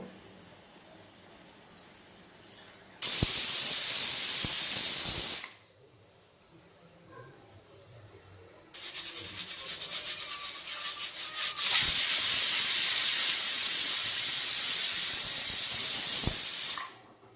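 A pressure cooker cooking mutton keema with sorrel releases steam in two loud hissing bursts, a short one followed after a pause by a long, sustained rushing whistle that cuts off abruptly.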